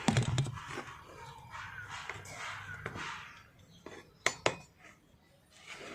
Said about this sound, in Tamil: இந்த மாதிரி டூல்ஸ் வச்சுட்டு கொஞ்சம் கீழே இருக்க மண் மேலேயும் மேலே இருக்க மண் கீழேயும் இந்த மாதிரி திருப்பி விட வேண்டியதுதான்